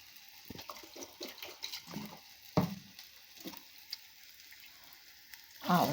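Water from rinsing a mixer jar is poured into a pan of rice and coconut batter, giving faint splashing and sizzling bursts amid light clinks, ending in a louder gush of pouring.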